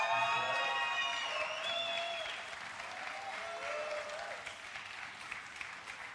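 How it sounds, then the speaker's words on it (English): Audience applause from a crowd at a bartending competition's global semi-finals, a steady dense clatter of clapping lasting several seconds with a few whoops and cheers mixed in. "Can we get another round of applause?"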